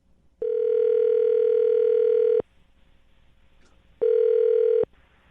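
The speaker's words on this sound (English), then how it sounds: "I'm going to dial the phone number right now, get him on the phone" A steady telephone dial tone sounds loud and close for about two seconds, then cuts off. After a short pause a second, briefer burst of the same tone follows.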